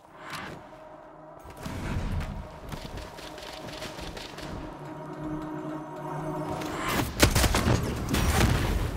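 Bomb explosions and rapid bursts of gunfire hit an enemy in the video game Bloodhunt, with dense crackling blasts, whooshes and a sharp heavy boom near the end, loud and continuous.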